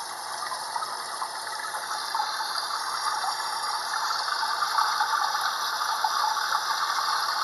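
A toilet flushing down a load of paper towels gives a steady, close rushing of water that holds even and continuous throughout, with no talking.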